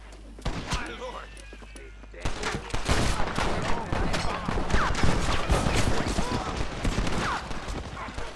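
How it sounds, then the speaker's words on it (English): Gunshots in Red Dead Redemption, a sharp opening crack followed by a chaotic volley of close, loud shots with horse hooves and clatter mixed in, a voice faintly present underneath. "I didn't know they were just gonna shoot."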